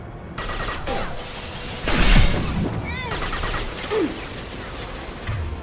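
Video game gunfire from a sniper rifle, with bursts and cracks over a dense, busy noisy backdrop, one heavier blast swelling near the middle, plus scattered whooshing effects, loud and without talk.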